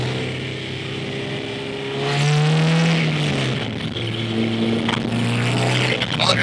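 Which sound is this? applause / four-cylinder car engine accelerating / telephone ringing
four-cylinder car engine accelerating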